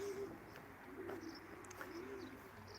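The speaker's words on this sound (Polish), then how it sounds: "Także tutaj gołębie oczekują." Pigeons coo in soft, repeated low rolling calls at a moderate distance, about three phrases spaced across a steady background noise of wind or traffic.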